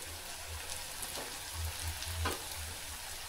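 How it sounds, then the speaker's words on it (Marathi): Corn Manchurian balls, a second batch, deep-frying in a small amount of oil give a soft, steady crackling sizzle with a faint low hum beneath and a few brighter pops, fairly quiet throughout. "हे दुसरी बॅच आता तळायला लागलेली आहे"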